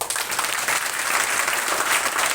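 A congregation at a Sunday prayer meeting claps together in dense, continuous applause that stays loud and steady for a couple of seconds, with no voices standing out.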